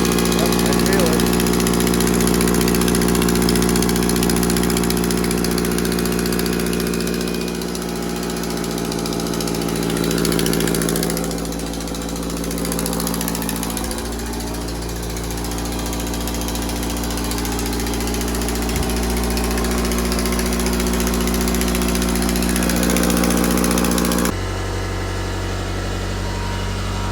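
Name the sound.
car engine idling with exhaust leak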